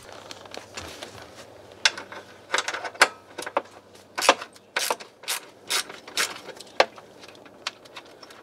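A ratchet loosens 10mm bolts on a C4 Corvette during blower motor replacement, with close, repeated bursts of pawl clicking in irregular strokes and brief pauses, no talking.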